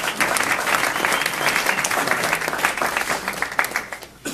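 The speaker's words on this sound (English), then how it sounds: "Everybody round of applause for Paul." A live audience gives a round of applause for a man named Paul, dense, steady clapping that fills the room for several seconds before thinning slightly at the end.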